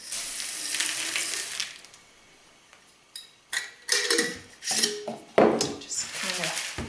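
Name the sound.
dried fruit dumped into a jar of water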